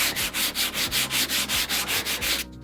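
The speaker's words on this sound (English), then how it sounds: "all I can do is switch over to abrasive, so I'll use some sandpaper to round that out." Sandpaper worked by hand along a wooden cap rail on a Bouchie Dory boat build gives steady, rhythmic back-and-forth rasping strokes, about eleven in a row, close and fairly loud with no talking.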